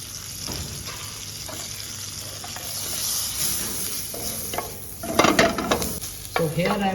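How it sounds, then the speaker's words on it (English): Onion sautéing in butter and olive oil in a pan, a steady close sizzle with stirring scrapes that grows louder toward the end with bursts of spatter and utensil clatter. "So here I am sauteing the onion into the butter and olive oil"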